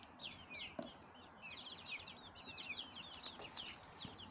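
Five-week-old Cuckoo Marans chicks in a dog cage give a continuous mass of soft high peeping and chirping, faint and close, with an occasional light knock.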